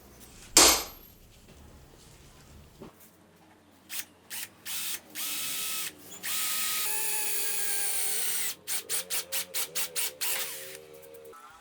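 A power drill bores a 6.5 mm hole in metal for an M8 tap, in a run of short whirring bursts and one longer steady drilling stretch, close and moderately loud, with no talking.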